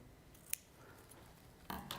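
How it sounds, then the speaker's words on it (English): Ribbon scissors snip through ribbon in quiet, sharp clicks: one crisp cut early, then a pair of quick snips near the end, close up against a faint room background. "let's just go in with my ribbon scissors"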